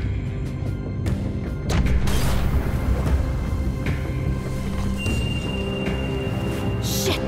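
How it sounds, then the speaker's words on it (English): A bomb explodes in The Walking Dead: The Final Season game: a loud crashing burst lands about two seconds in and leaves heavy rumbling and clatter that fades over the next few seconds. "Shit, the bomb!"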